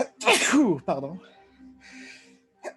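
A loud, close sneeze bursts out with a sharp onset, followed by speech and a brief quieter voice afterward.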